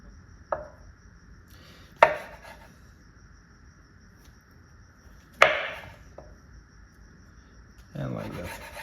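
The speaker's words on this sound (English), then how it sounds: "I'm going to cut it into halves" A knife chops through asparagus spears on a cutting board, giving a few sharp, separate knocks spaced a second or more apart, each with a short ringing tail, and a brief rustle near the end.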